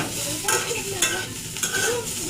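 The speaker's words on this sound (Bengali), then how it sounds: "এবার নেড়েচেড়ে রসুনটা ভেজে কিছুক্ষণ ভেজে তারপর এই কাঁচামরিচগুলি দিয়ে আরো কিছুক্ষণ ভেজে নেব।" Garlic and green chillies fry in a hot pan, a steady sizzle running throughout while a utensil stirs them in a few distinct scraping strokes, close and fairly loud with no talk.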